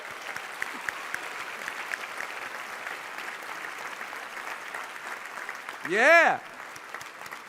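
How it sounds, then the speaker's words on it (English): Audience applause at a live motivational seminar, a broad steady patter of many hands clapping at moderate level from a crowd in a hall, with a single voice calling out briefly near the end. "Give yourselves a round of applause."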